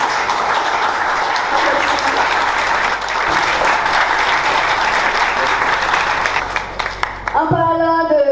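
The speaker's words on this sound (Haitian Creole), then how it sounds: "Alors on applaudit ces jeunes aussi." A ceremony audience applauds young honorees with loud, dense, sustained clapping that carries on steadily for several seconds, and a voice speaks as it ends.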